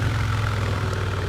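A 2022 Harley Davidson Sport Glide motorcycle engine gives a deep, steady, pulsing rumble close by, with rushing wind noise over it and no speech.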